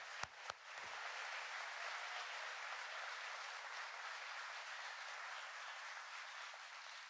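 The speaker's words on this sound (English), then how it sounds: "Please give them a round of applause." An audience at President Biden's remarks on jobs gives sustained, even applause after a couple of sharp claps, faint and steady throughout.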